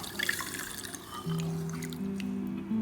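About 300 ml of water poured over chia seeds in a bowl, a close gurgling trickle whose pitch climbs as the liquid runs and fills.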